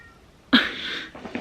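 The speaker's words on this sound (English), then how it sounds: "That's my roommate's cat." A roommate's cat lets out a sudden, fairly close meow indoors, then a shorter second call follows a moment later, with no talking.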